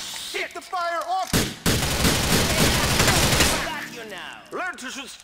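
Gunfire in GTA IV comes as a dense, loud burst of rapid shots lasting a couple of seconds, framed by shouted voices before and after.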